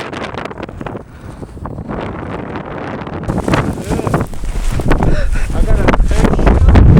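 Strong gusting wind roars across the microphone high on snowy Mount Rainier while snowboarding, building steadily louder toward the end, with a brief spoken phrase near the start.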